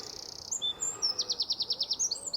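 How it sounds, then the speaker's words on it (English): A small wren singing outdoors: a high, thin trill of rapid, evenly repeated notes after a few shorter whistled phrases, fairly close over quiet background noise. "that little dot is a little wren"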